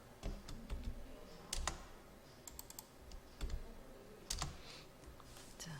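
Keys clatter quietly on a computer keyboard during spreadsheet editing, with irregular bursts of keystrokes separated by short pauses and a few sharper single presses, and no talking.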